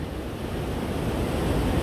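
A waterfall at the Drei Zinnen in the Dolomites gives a loud, steady, broadband rushing roar close by, constant and unbroken throughout, with no voices.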